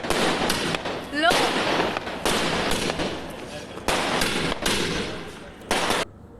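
Sharp crackling bursts of firecrackers going off one after another at uneven intervals, loud and close, with a brief lull between some blasts.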